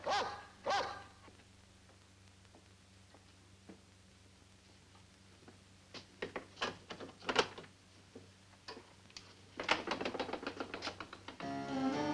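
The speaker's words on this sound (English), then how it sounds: "find out what's the matter with those dogs" Dogs bark in short sharp bursts at a moderate distance, scattered single barks building into a rapid cluster near the end over a low steady hum.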